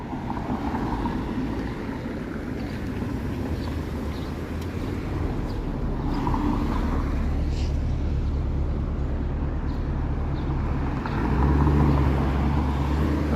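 Busy city traffic on a warm Monday evening in Toronto: a steady low rumble of passing cars, with wind buffeting the microphone and a heavier vehicle swelling louder near the end.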